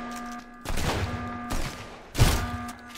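Gunfire in the video game Sunkenland: three loud, close shots, each a sharp burst with a short decaying tail, spaced about a second apart over a steady background hum.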